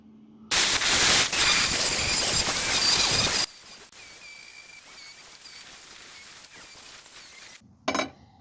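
A plasma cutter that is not cutting well hisses loudly on metal for about three seconds. A quieter crackling hiss follows, then a brief final burst, with no voices.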